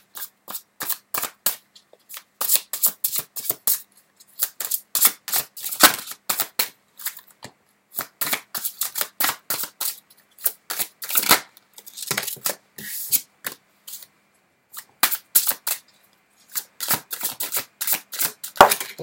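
Tarot cards being shuffled by hand, producing a long run of crisp, irregular flicks and riffles in quick bursts with short pauses between them, close and clear, with no voices.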